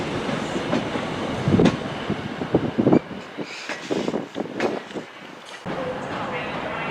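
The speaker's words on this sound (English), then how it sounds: "1720 TransPennine Express Service to Manchester Airport" A TransPennine Express train bound for Manchester Airport rolls past in the late afternoon. A steady rail rumble is broken by bursts of clatter and wind buffeting, and a voice speaks over part of it.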